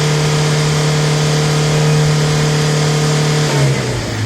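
A Toyota Hilux 2.5 turbo diesel engine, in a state where it gives out a lot of black smoke, revs loud and close with a steady droning pitch that drops sharply near the end, with no talk.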